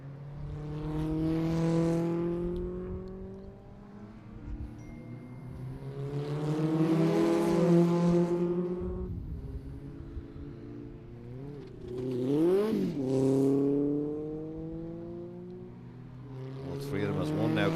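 Race cars lapping a circuit during an ICCR 2024 round, engines rising and falling as several cars pass, with revving swells and gear changes, moderately distant, under continuous commentary.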